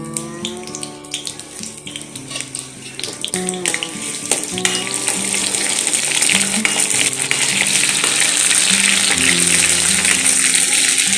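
Chopped garlic frying in mustard oil for a jute leaf stir-fry, starting with scraping and clinks under a soft sizzle that swells into a loud, dense hiss of frying over the second half.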